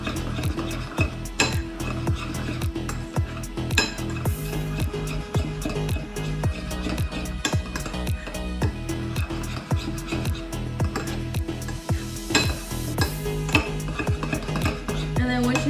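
Utensils mixing ingredients in a bowl, with steady clinking and scraping strokes repeating throughout over a busy kitchen background.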